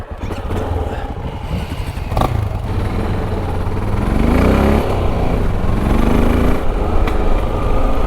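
A Honda CRF300L five-speed dual-sport motorcycle rides a dirt forest trail with a steady, fairly loud engine drone, some clatter, and a brief rise in revs midway.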